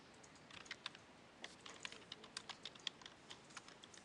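Quiet, irregular clicking of keys on a computer keyboard, a soft patter of close keystrokes with short pauses and no talking.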